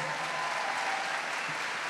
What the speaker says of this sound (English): How about another round of applause for our wonderful Ismael?